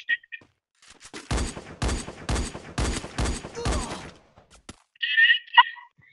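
SVD sniper rifle fire in a video game, a rapid run of about six loud, close shots spaced evenly, with softer clicks before it and a bright metallic ping afterwards.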